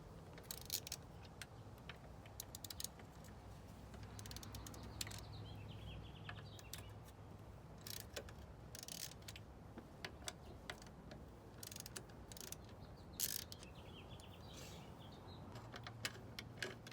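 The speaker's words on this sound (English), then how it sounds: "Remove the 4 bolts holding on the throttle body." A ratchet loosens the throttle body bolts on a 2018 Ford Mustang, with faint, scattered clicking and ratcheting bursts over a quiet background hum and occasional birdsong.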